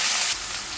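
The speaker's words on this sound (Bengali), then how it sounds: "আদাটা ভালো করে কষিয়ে নেব" Ginger paste with salt sizzles steadily in a hot pan while being cooked down for a chhana korma, a close, continuous frying hiss that dips slightly in loudness partway through.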